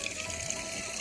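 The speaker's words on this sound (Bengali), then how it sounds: "তো এখন মেয়ে সব গাছে জল দিয়ে দিচ্ছে" Water pours onto potted chilli plants on a rooftop terrace, a steady, even gushing rush that lasts the whole moment without any voices.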